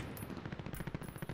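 Light machine gun in Call of Duty Warzone fires in rapid bursts of close, punchy shots over a steady background of game noise, the rattling rhythm running through most of the stretch.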